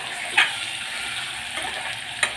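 Raw drumstick pods sizzle steadily in a hot oil tempering with salt, with a few brief scraping clinks of stirring over the even frying hiss.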